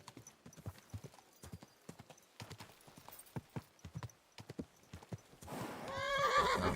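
A horse's hooves clip-clop in a steady rhythm before a loud, close whinny rises at the end, from a mounted ride in Kingdom Come Deliverance 2.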